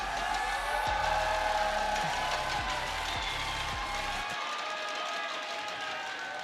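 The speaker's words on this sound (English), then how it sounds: "give them a cheer, please." An esports crowd cheers at a League of Legends IPL5 final, a broad roar of voices and clapping washing through the arena under droning synth music.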